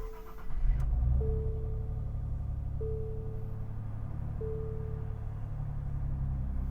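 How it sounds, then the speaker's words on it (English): A 2025 Nissan Z with a twin-turbo V6 starts up: a short cranking burst and catch, then a steady low idle rumble close by, with a repeating electronic chime over it. "let's go ahead and fire up the Nissan Z's twin turbo V6"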